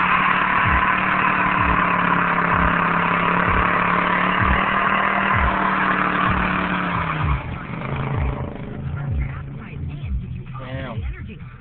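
A Pontiac pickup truck engine revving hard during a burnout, a loud, sustained roar that holds high and then drops off. Rattling bursts run through it, and voices are heard around it.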